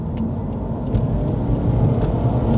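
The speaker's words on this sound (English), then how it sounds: "Just put my foot down for about 20 meters." A 2012 Subaru Impreza WRX STI A-Line with automatic gearbox accelerating hard past a cyclist, a loud, dense low engine drone from inside the cabin that swells slightly as it pulls.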